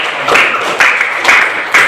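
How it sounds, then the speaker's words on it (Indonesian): A group claps steadily, a dense patter of applause at close range with a few louder swells, no talking. "Dan kasih tepuk tangan dulu untuk Bob."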